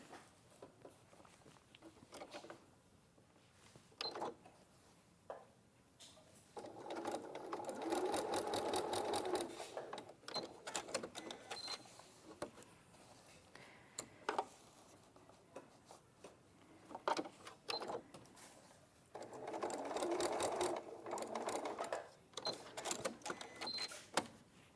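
A sewing machine runs tacking stitches to hold handles in place on a Sanderson Lanterns in the Garden quilt, with two close bursts of fast, steady stitching separated by quieter handling and shuffling.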